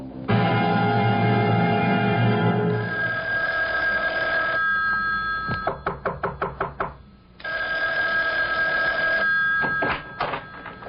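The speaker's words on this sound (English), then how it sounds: "Isn't that your phone I hear ringing?" An old-style telephone bell rings in loud sustained bursts, then breaks into rapid clattering trills and resumes ringing, with no voices over it.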